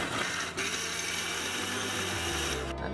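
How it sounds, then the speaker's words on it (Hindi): A mixer grinder whirs steadily at high speed as it grinds soaked poha into batter with a cup of water, a loud continuous motor drone with no talking. "बस मिक्सर ग्राइंडर में आप इसको अच्छे से ग्राइंड"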